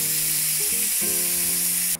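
A beef steak sears in butter in a frying pan, a loud continuous close sizzle with a hissing top and a few tonal pan hums, cut off abruptly at the end.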